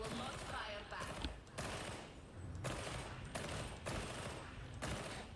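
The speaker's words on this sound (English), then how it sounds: "Auto pistol, that's nice." An auto pistol fires in Warhammer 40k: Darktide, sharp bursts of rapid shots repeating in quick clusters with short pauses between them, fairly close and sitting over faint background talk.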